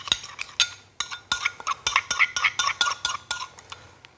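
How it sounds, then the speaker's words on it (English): A spoon stirs basil with a little seasoning into a paste, giving a steady run of light clinks and scrapes against a bowl, close and fairly quiet, with no talking. "Stir that through to almost like a little paste."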